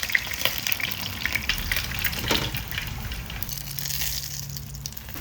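Pieces of chicken sizzle and crackle in hot oil in a pan, a steady close frying hiss with small pops and occasional stirring, no voices.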